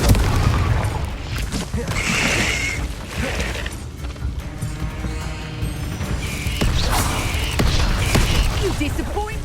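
Confringo fire-blast spells in Hogwarts Legacy bursting amid a dense, loud battle mix of booms and impacts, with voices calling out over the continuous combat noise.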